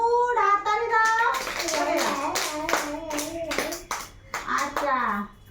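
Children in a preschool class clap their hands in a quick burst of sharp, bright claps mixed with a teacher's and kids' voices, loud and close.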